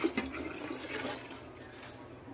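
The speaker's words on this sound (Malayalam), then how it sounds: "ആ വെള്ളവും ബാക്കിയുള്ള വെള്ളവും കൂടിയാണ് അമ്മ ഒഴിക്കണത്" A soft, steady pour of water into a cooking pot for meat rice, gentle and continuous, fairly quiet with no voices.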